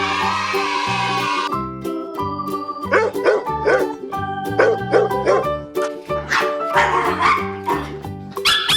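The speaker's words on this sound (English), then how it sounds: "What's the sound of the dog?" A dog barks repeatedly in quick, close, loud yips and woofs over background music, with jingling tones between the barks.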